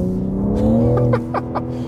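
A BMW M3 G80 with rear-wheel drive eased around a turn, its engine droning loud and close with a rising pitch, plus a few short sharp bursts near the end.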